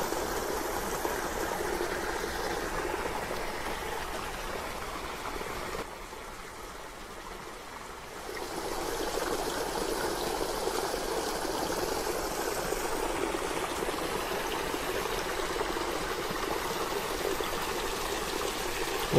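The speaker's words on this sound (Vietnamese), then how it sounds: "Đây là một dòng chảy góp phần nên tạo nên một cái dòng Suối Tiên" A flowing stream at Suoi Tien in Phan Thiet rushes steadily and close by, a continuous broad wash of running water with a brief quieter dip partway through, and no voices.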